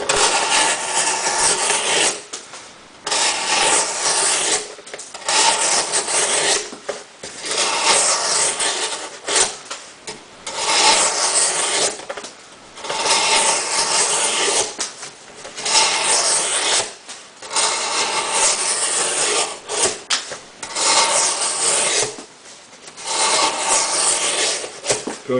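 A Benchmade Nitrous Stryker knife with a hollow-ground blade shaves wood in long repeated strokes, each a close, loud rasping scrape split by brief pauses, steady in rhythm with no talking.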